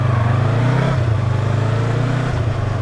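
A Yamaha R25 motorcycle engine runs in third gear, a close, loud, steady pulsing drone with a slight drop in pitch midway, no voices.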